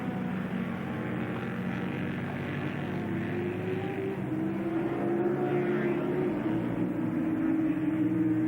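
Suzuki and Kawasaki superbikes, one with an ex-Graham Crosby engine, racing in a 1983 heat on a Grand Prix circuit; a steady engine drone with rising pitch builds gradually, heard at a distance.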